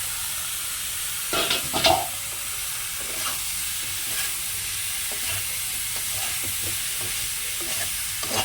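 Paneer, potato and soya chunks sautéing in a pan for a vegetarian biryani, giving a steady low sizzle with intermittent scraping stir strokes, a louder clatter near the start, no talking.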